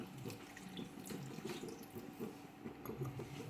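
Water splashes and trickles steadily into a pan of jaggery, a quiet, continuous pouring with small irregular splashes and no talking.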